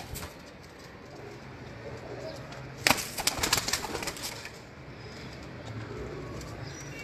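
Soft pigeon coos over a quiet outdoor background, with a burst of flapping or fluttering in the middle.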